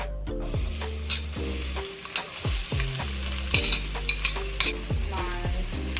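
Onion for vegetarian Creole jambalaya sizzling in hot oil, a loud continuous fry with repeated scraping stirs of a utensil against the pot, close and with no voices.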